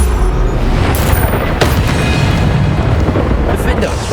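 A loud spell blast, the Bombarda explosion in the video game Hogwarts Legacy, rumbles heavily with sharp cracks near the one- and one-and-a-half-second marks, a thunderous eruption sustained over several seconds.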